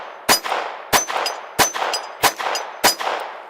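Five sharp .22 pistol shots ring out at a steady pace, each a loud crack with a short ringing tail and no talking.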